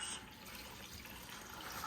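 Homebrew beer running through siphon tubing into a bottling bucket, a soft steady trickling and filling wash of liquid, fairly quiet and continuous.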